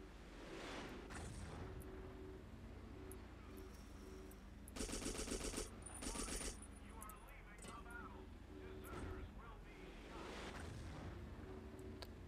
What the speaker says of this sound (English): I actually do have a machine gun